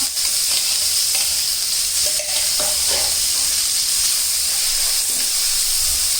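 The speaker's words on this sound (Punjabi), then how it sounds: "ਪਿਆਜ਼ ਨੂੰ ਹਲਕਾ ਜਿਹਾ ਭੁੰਨਾਂਗੇ" Chopped onion, ground coarse in a chopper, fries with cumin and bay leaves in a pan, giving a loud, continuous hissing sizzle with occasional soft stirring scrapes.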